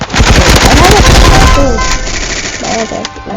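Gun firing in the Roblox game Hypershot; a loud, rapid burst of game gunfire opens the moment and fades within about a second, followed by electronic game effects, while a voice talks over it.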